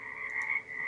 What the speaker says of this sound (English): I was washing that question out of my brain with a little bit of frog noise.